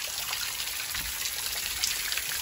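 Fresh water trickles between rocks on a mountainside near the Caspian Sea shore, a steady close bubbling hiss that runs without a break.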